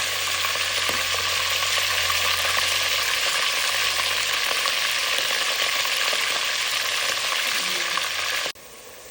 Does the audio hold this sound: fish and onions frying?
yes